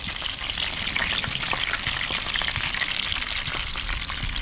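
Freshly flipped trout fillets sizzle steadily in a hot pan, a close, continuous crackling hiss with small popping spatters and no voices.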